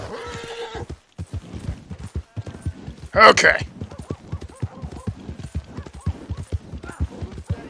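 Horse hooves clip-clop at a steady riding rhythm in the Red Dead Redemption 2 video game, with a sharp whinny partway through and a voice talking briefly over the game sounds.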